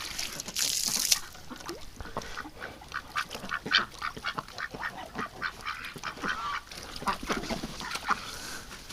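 Mating ducks very close by in winter give soft, scattered quacks and rustling splashes, with a sharper bright noise near the start and a faint trickle beneath.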